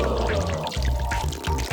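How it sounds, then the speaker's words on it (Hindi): Water pours into a water balloon as it fills, a continuous loud rushing gush with low gurgling swells that pulse slightly toward the end. "पानी भर रहा है।"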